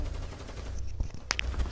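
Gunfire in the shooter Rainbow Six Siege: several sharp close shots crack out in a quick burst near the end, following a stretch of rumbling game ambience, with no talk over them.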